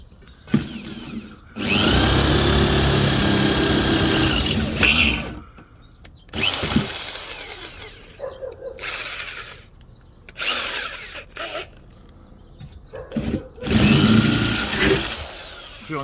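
Several bursts of power drilling through metal, enlarging holes for rivet nuts on a Mitsubishi Pajero jack mount, each a loud whining grind lasting a few seconds, with short pauses and handling noise between them.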